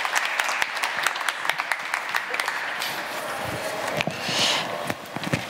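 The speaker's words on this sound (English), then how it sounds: "Yes, a big round of applause." Moderately faint applause from an audience at a ministerial eGovernment conference session, a steady patter of clapping with a few sharper claps standing out, continuing throughout.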